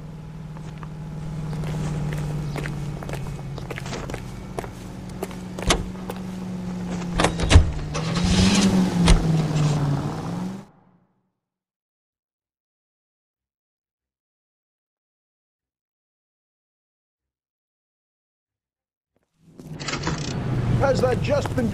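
A car being driven in the video game L.A. Noire, with a steady engine drone and some mechanical clunks and rattles for about ten seconds, then silence, then the engine hum returning near the end.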